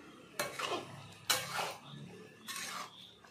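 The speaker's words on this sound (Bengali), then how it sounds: "সব বাদামগুলো এর মধ্যে দিয়ে দিয়েছি, একটু মিশিয়ে নিচ্ছি।" Roasted peanuts being stirred into vegetable khichuri in a pot, with three separate scraping, clattering bursts of a spoon against the pot and quieter handling between them.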